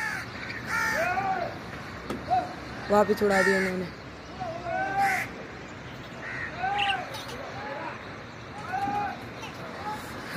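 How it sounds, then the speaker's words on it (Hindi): Crows caw and pet parrots screech around a rooftop, with repeated harsh calls rising and falling nearby while someone talks over them. "कौवे से ज्यादा ना वो चीख रहे हैं।"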